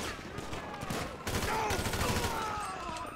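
AK rifle fire in a video game, a dense rapid burst of shots that keeps going throughout, loud and close, with a voice partly audible under the gunfire.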